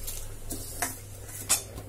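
Fried grated coconut is scraped out of a cooking pan into a bowl with a metal spoon, making a few sharp clinks and short scrapes over a faint background sizzle.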